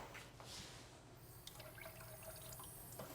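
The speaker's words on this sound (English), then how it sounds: "you take Ouzo in a glass and you top it off with a little bit of water" Water trickling into a glass of ouzo, faint splashes and drips, close and quiet in a still room.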